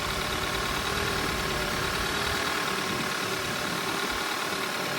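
A 2016 Audi A6 2.0 quattro engine idling just after its first start of the day, a steady close broadband running drone with a slightly uneven low-end pulse and no talk.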